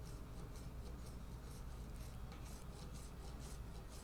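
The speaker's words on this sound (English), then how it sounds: "We'll use our little cheese grater here to reshape this thing." A rasp file scrapes carbon fiber on a broken Les Paul guitar under repair, a faint, steady rhythmic rasping of repeated strokes throughout with no talk.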